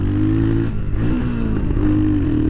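A Royal Enfield 462 Himalayan motorcycle engine revs hard up close, its loud, steady drone rising and dipping in pitch as the throttle is worked.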